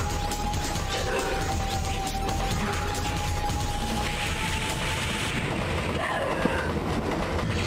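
Moving train in the Mega Man Zero video game: a steady, continuous rumble with rhythmic rail clatter holding at even loudness throughout, one brief sharp knock near the end.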